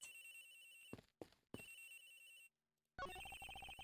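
Cell phone ringing in the Ace Attorney Investigations video game, a bright repeating electronic ringtone broken by short silent gaps, loud and alone against a musical backing with no voices.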